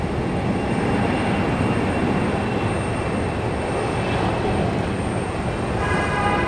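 A JetBlue jet takes off from Raleigh-Durham International Airport with a loud, continuous broadband engine roar that holds steady and close throughout.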